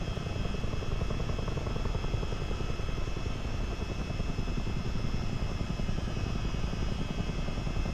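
CH-47D Chinook helicopter flying in a multiplayer flight simulator game, a dense continuous rotor thump and engine drone holding steady and loud for the whole stretch.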